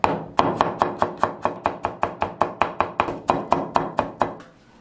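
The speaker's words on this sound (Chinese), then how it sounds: "生姜切成末" A knife mincing ginger on a cutting board: about eighteen sharp, evenly spaced chops in quick steady rhythm, loud and close, ending in quiet.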